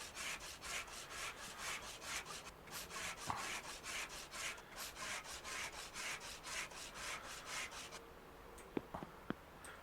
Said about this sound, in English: putting stuff back to bare metal and spraying it